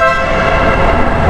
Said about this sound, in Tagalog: biyahero dito ay bumubusina.